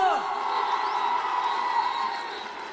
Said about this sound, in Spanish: quiero que le brinde un fuerte aplauso a nuestro primer presidente obrero